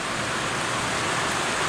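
Heavy rain hisses in a dense, continuous wash, loud and unbroken, around a 2023 Toyota Landcruiser 79 series, with no voices heard.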